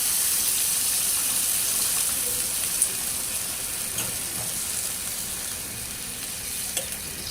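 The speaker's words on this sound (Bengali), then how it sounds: "আমার আলুগুলো সিদ্ধ হয়ে গেছে আমি এরকম পানি দিয়ে দেবো" Water goes into a pot of boiled potatoes cooking for a fish curry with long beans, giving a steady, close hiss and sizzle with a couple of faint clinks, and no talking.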